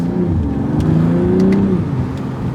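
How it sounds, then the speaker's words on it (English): A tuned 460-horsepower BMW M240 runs on overrun, its exhaust giving a loud, close, steady droning burble broken by a few sharp cracks. "Whenever you tune a car, you always get a little bit more cracks and burbles from the additional overrun that comes with a tuned vehicle."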